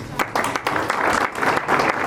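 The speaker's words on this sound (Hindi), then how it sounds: "बहुत जोरदार तालियां" An audience at an Indian seminar breaks into applause, a dense, steady patter of many hands that fills the whole moment. Voices sound through it.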